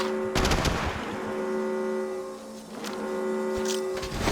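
Rapid automatic gunfire in the Apex Legends Mobile video game: dense bursts of loud shots over a steady tonal game hum, with a brief lull in the middle before the firing picks up again.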